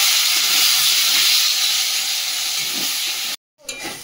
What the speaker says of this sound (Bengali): দিয়ে ভালো করে চিকেনটা কষাবো